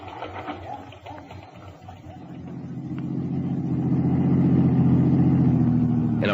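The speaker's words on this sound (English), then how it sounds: "In a rented car, I drove back to the Anderson address, parked across the street" A car engine in an old radio drama hums and rises steadily as it drives, the steady drone building in loudness toward the end, with faint talk early on.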